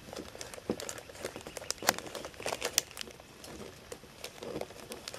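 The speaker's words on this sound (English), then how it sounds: "Open it up and fold these around." A lightweight bag crinkles steadily as it is folded around a backcountry meal, a close, busy rustle of small crackles throughout, fairly quiet.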